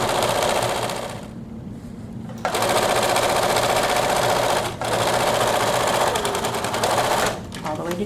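A sewing machine stitches a hood seam for an atikłuq parka, with rapid close mechanical chattering in several bursts, broken by short pauses where the machine stops and restarts, including backstitching to lock the seam.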